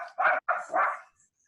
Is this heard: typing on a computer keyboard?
no